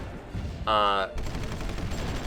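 Gunfire and explosions in the strategy game Supreme Ruler Ultimate form a dense, continuous crackle of shots with a brief, loud tonal blare partway through.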